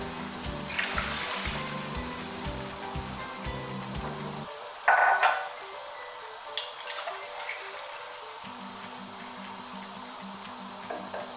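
Water poured into a cooking pot while making quick gola kabab pulao, a steady splashing pour up front that stops partway, followed by quiet clinks and a low background hum.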